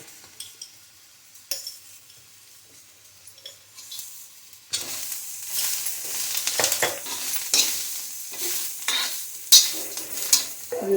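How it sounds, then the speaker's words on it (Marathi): Peanuts and cumin tipped into roasting chillies on a griddle for Kolhapuri thecha: quiet faint sizzling, then a burst of loud frying with repeated scraping and stirring strokes. "आता घालते मी याच्यामध्ये शेंगदाणे"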